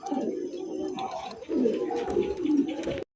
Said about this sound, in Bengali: এ লক্ষ্মী কবুতর এডি।